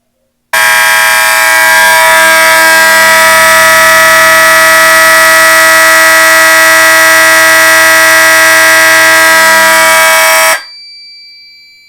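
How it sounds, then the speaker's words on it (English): A very loud, piercing smoke alarm blares continuously for about ten seconds, then cuts off abruptly, leaving a faint hum. "So let's test this smoke detector."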